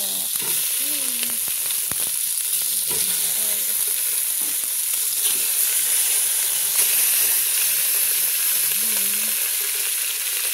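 Tilapia going into a hot pan of oil, a steady bright sizzle and frying hiss running throughout, with faint stirring and small clatters beneath.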